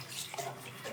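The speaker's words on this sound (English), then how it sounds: "open the cold side of a bathtub faucet all the way" Water runs steadily from the cold side of a bathtub faucet opened fully, giving a continuous soft hiss and splash with no talk.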